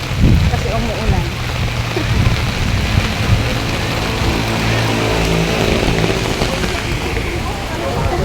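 Heavy rain falls steadily throughout, a dense continuous hiss and patter outdoors, with faint voices and street noise mixed under the downpour.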